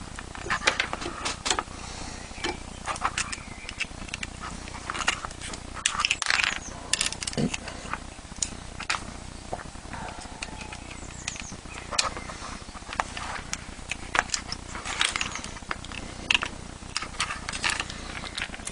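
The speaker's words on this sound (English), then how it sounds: "Now we're going to finally tighten these using a little socket spanner." Small socket spanner tightening the bolts of a DOS3 cantilever assembly, heard as scattered light metallic clicks and ratcheting taps close by, irregular and fairly quiet throughout.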